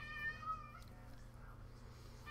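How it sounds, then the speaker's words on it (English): A pet cat meowing indoors after being fed, a drawn-out, wavering meow near the start followed by a fainter one at the end over a low background hum. "And that's my cat Snowball, which I just fed."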